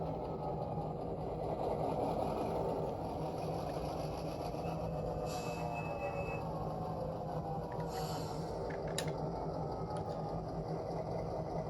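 A model EMD 567 diesel locomotive sound decoder winds down as the throttle is decreased, a steady low engine rumble and droning idle with a few faint higher metallic hisses, quiet and continuous with no talking.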